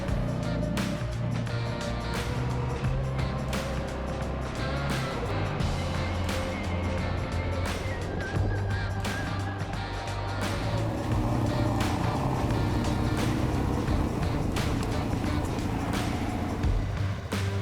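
An ADV motorcycle rides down the gravel Corkscrew pass in the Colorado Rockies, the engine droning continuously close up under rough wind buffeting and sharp knocks from the rocky track.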